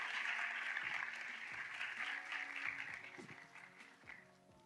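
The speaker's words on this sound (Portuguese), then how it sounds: "Un aplauso para este panel" A conference audience applauds a panel in a hall, steady dense clapping that holds loud and then gradually thins toward the end.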